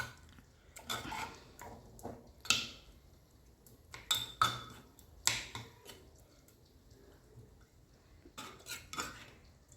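Cooked lentils being mashed in a pot, giving scattered metallic clinks and scrapes of a utensil against the pot in uneven bursts, fairly close and quiet, with no talking.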